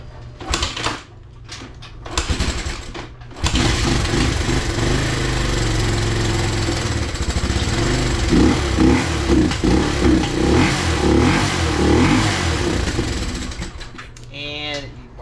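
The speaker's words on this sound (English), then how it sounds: "So as it sits now, the bike still starts up pretty good. Fuel on, choke on." A Honda XR200 motorcycle with its fuel on and choke engaged starts after a few short cranking bursts, then settles into a loud, steady, close-up single-cylinder idle with a slightly uneven, pulsing beat that fades toward the end.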